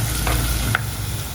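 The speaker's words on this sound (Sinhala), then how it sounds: "මේ ටික හොඳට කරවීගෙන එනවා." Banana blossom tempered curry frying in a pan, with a steady sizzle broken by a couple of short scraping stirs, close and fairly loud, with no talking.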